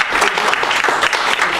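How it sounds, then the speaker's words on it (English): Audience applause fills a Keller Williams sales meeting in a dense, steady burst of clapping from many hands, loud and close throughout the short stretch. "Give yourselves a round of applause."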